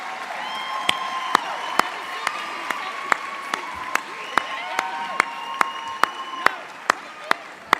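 A graduation audience at the Greece Athena commencement ceremony applauds students, with a steady wash of clapping and scattered cheers over a loud, regular series of sharp thumps throughout.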